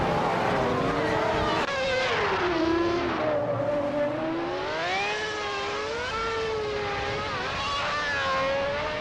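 Racing car engines wail continuously in a racing video game, with the Tyrrell 023 among the field; loud rising and falling engine pitches sweep through gear changes and overlap as several cars pass, steady throughout.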